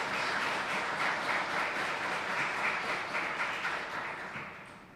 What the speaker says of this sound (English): the professor deserves a huge round of applause.